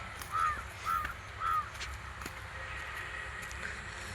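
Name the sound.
crows flying and cawing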